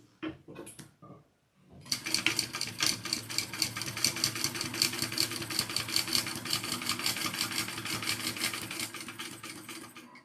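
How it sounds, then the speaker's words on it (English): Sewing machine with a walking foot top-stitching vinyl handbag straps, a fast, steady mechanical chatter running continuously after a few brief knocks at the start, fairly close and loud, with no talking. "we're going to sew these on."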